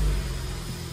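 A cold 2008 BMW E90 engine settles into a smooth, steady idle, its low rumble loud and close after a brief initial surge.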